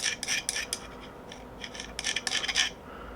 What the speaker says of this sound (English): I like to use the white ceramic like tiles here, these little posts, and I'll take this and I'll just go kind of backwards with it